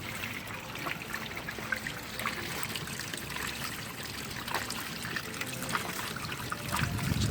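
Water drains from a Costway mini washing machine through a hose into a French drain, a faint, steady trickle and gurgle continuing evenly throughout.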